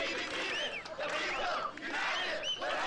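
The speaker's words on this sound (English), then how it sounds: "they started chanting and clapping and stuff" A protest crowd in apartheid-era South Africa chants together, voices rising and falling in rolling waves at a moderate distance, with a murmur of the crowd filling the gaps between phrases.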